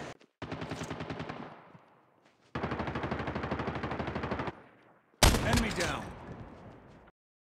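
Automatic gunfire in the mobile shooter game Call of Duty Mobile, three loud rapid bursts separated by short pauses, the last a sharper blast with a ringing tail, close and dry.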